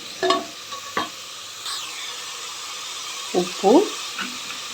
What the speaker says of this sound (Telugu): ఇట్లా బాగా కలిసేలాగా కలిపేసుకొని